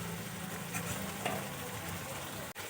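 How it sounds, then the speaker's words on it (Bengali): Spices sizzle and fry in a pan for a cauliflower curry while being stirred, a steady close hiss with scraping stir sounds throughout and a brief dip near the end. "আমি মশলা কষিয়ে নেব যতক্ষণ না মশলার থেকে কাঁচা গন্ধ যাচ্ছে"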